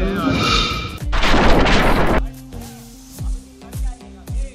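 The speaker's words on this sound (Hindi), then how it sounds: "जहाँ जहाँ ये पैर रख रहा है वहाँ धमाका हो रहा है।" Several sharp booming explosion thuds, set off wherever a character steps, burst out one after another, loud and close, after a stretch of dense noisy rumble; the impacts come in irregular succession.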